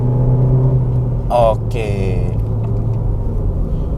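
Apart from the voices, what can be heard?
Suzuki Baleno engine revving under acceleration in sport mode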